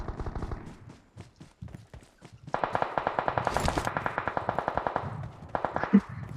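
Gunfire in the Ocean Odyssey 2 video game: a few scattered shots, then a long rapid automatic burst of evenly spaced bangs, close and loud, ending with a couple more single shots.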